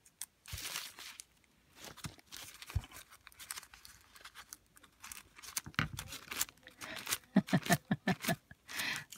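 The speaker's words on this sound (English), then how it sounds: "Sometimes not the easiest to peel away these layers, but I got it." Layers of a paper napkin being peeled apart with a piece of tape, giving a run of soft crinkling and tearing rustles, close and intermittent, growing busier and denser toward the end.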